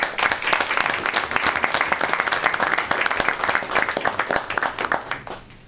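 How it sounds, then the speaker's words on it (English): Steady applause from the audience at a county commissioners meeting, a dense patter of many hands that holds level and then thins toward the end. "Deserves a round of applause."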